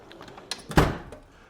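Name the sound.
toolbox wrench drawer sliding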